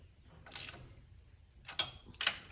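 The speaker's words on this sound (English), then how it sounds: "go ahead and tighten them down with your wrench" A wrench tightens the alternator bolts on a GM truck, giving three short faint metallic ratcheting clicks spread over a couple of seconds in a quiet setting.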